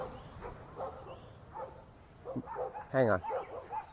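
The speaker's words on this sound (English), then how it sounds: "we're going to have our doggies barking at the little doggies here." Small dogs barking and yipping outdoors during a walk, a few scattered barks and yelps of moderate loudness mixed with a person talking, with one louder bark burst near the end.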